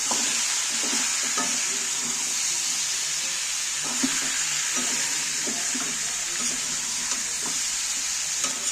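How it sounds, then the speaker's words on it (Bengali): Badam chicken with pepper, dried chillies and salt frying in a pan, a steady sizzle with soft spoon scrapes and knocks repeating as it is stirred, no talking. "এইবার ভালো করে কষিয়ে নাড়তে থাকবো কষাতে থাকবো"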